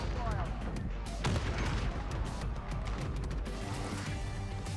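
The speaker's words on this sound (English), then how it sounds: "Dude, this fucking AK is amazing." Dense AK-47 fire in a Modern Warfare match, continuous loud bursts with crashes and impacts filling the whole stretch, with a brief sharper blast partway through.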